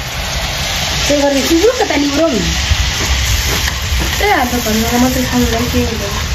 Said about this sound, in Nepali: अब हजुरहरूलाई हामीहरू सेलरोटी पकाउने भिडियो देखाउने नै छौँ